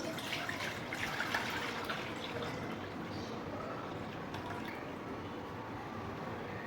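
One to one and a half litres of milk pours into a cooking pot for a sweet vermicelli dessert, a soft continuous liquid stream that stays faint and steady.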